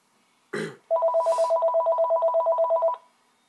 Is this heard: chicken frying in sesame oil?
no